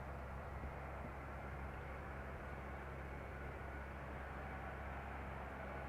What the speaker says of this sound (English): KLM flight 682 arriving from Vancouver. This is a 777-200 ER.